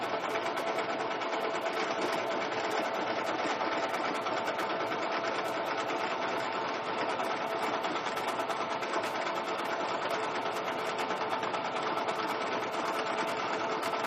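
Sewing machine stitching pinned fabric pieces for a handmade dog bathroom set: a continuous, even mechanical whirring hum with a fine rapid rhythm, running steadily throughout without pauses or speech.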